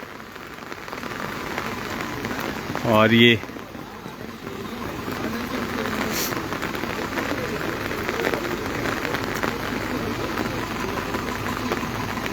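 Heavy monsoon rain pours down over the Ridge ground in Shimla as a steady, dense hiss that runs the whole time, with someone briefly speaking over it near the start.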